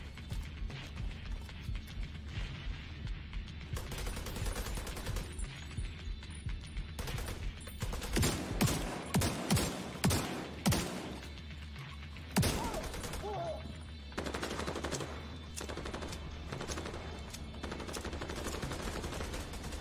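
Gunfire in The Division 2 video game, with a cluster of heavy shotgun-style blasts in the middle and a later single shot, plus mechanical weapon handling and game ambience around them.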